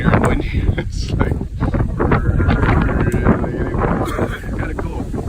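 Strong gusting wind buffets the microphone atop Mayan ruins at Calakmul in Mexico, a steady loud roar with rustling swells and no pauses.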